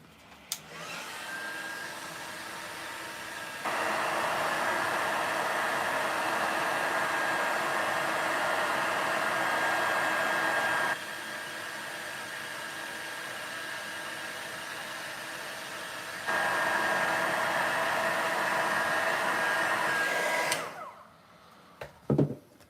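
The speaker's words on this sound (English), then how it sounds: "So I'm just going to heat set that one again." A heat tool blows steadily for about twenty seconds, setting embossing powder on a snowflake Christmas card. The whoosh is close and loud, steps up and down in level between settings, then clicks off.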